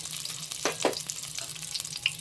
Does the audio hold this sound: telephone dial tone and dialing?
no